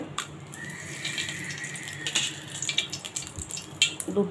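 Two bay leaves hit four spoons of hot ghee for pulao, giving a steady close crackling hiss with scattered pops that builds slightly toward the end.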